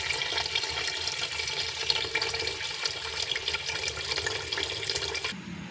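Water pours from a tap into a cooking pot for pork sinigang, filling it about halfway, a steady, close, continuous gush that ends abruptly near the finish, with no talking.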